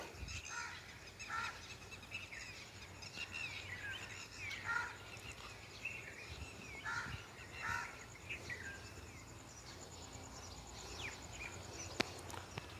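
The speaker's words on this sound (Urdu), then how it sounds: "پرندوں کی آواز آ رہی ہے آپ کو؟" Birds sing and chirp in a park on a morning walk, with quick calls repeating through a soft steady hum of insects. They are faint and in the middle distance, with no voices.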